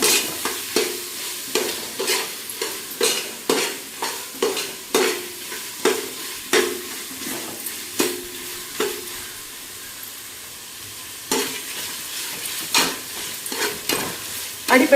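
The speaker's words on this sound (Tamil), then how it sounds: "இப்போ இது சேர்ந்து தக்காளி போட போகிறேன் தக்காளி எல்லாம் வதக்கி விட்டுப்போம்" Tomatoes sautéing in a pan for mushroom biryani, with repeated rhythmic scrapes of a spoon stirring through a constant hiss of frying, close and fairly loud, with no voice.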